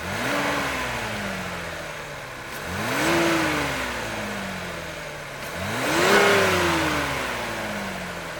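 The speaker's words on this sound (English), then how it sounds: "start up the engine for you guys" Cadillac XT6 SUV engine starting and revving, three rising-and-falling engine sweeps at a moderate distance with no talk.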